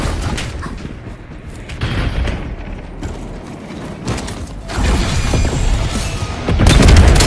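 Missile strike explosions from a Hellstorm killstreak in a Call of Duty Moshpit match, heavy rumbling booms and crashes building in loudness over several seconds, with dense mechanical clatter and no talk.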